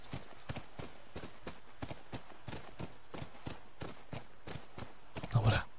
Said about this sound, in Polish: Koń wybija nam rytm